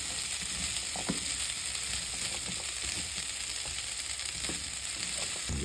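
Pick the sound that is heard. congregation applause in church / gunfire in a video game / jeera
jeera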